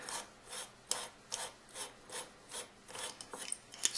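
A metal thumb screw on a canteen cook kit stove is spun back on by hand, giving a steady run of soft, rhythmic rasping turns about twice a second, close up, with a few sharper clicks near the end.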